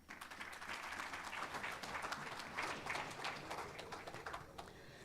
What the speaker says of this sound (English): Another round of applause, please, for the panel and moderator as well.